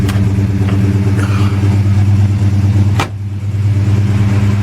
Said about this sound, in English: Well, I got the idle a little bit too high, so I have to adjust that.